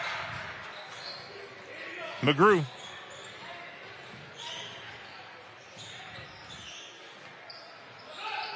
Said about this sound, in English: Ball bounces around.